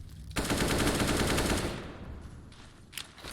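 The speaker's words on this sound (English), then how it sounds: "The AWP comes onto the board and just takes the shot through the smoke" An AWP sniper rifle fires through smoke in a competitive Counter-Strike match, one loud sharp crack that rings out and decays over about a second, followed by quieter in-game sounds.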